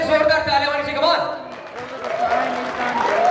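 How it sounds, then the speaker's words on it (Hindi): Guests clap at a 50th wedding anniversary celebration while someone talks over them, with strong tonal voice harmonics across the clip and a brief dip in the middle. "एक बार बंसल फैमिली के लिए जोरदार तालियां होनी चाहिए"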